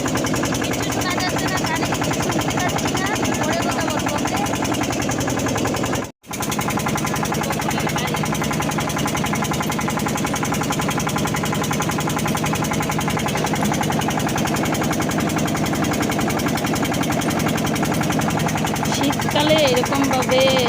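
A river boat's engine drones loudly and steadily with a rhythmic knocking throb, briefly cutting out once, then carrying on continuously.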